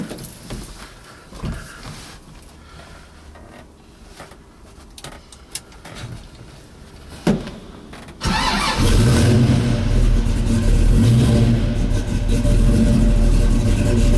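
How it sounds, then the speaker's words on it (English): Cold start of a 1969 Camaro SS 396 big-block V8: after several seconds of quiet handling, the engine fires at once into a loud, steady, deep rumble that holds close and strong for the rest of the clip. "We're going to do a cold start just so you can see."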